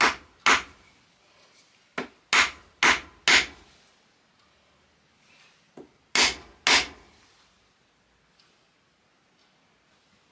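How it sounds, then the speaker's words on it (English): Leather-faced hammer tapping a wooden cane for a Madame Giry prop from Phantom of the Opera, about a dozen distinct close knocks in uneven bursts separated by short quiet gaps. "Leather-faced hammer."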